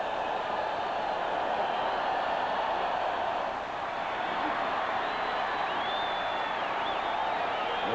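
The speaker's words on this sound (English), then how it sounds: "The crowd starts up with a wave now" Stadium crowd doing the wave at a 1986 Los Angeles Raiders at Kansas City Chiefs football game, a steady wash of distant roaring and cheering that stays at an even level throughout.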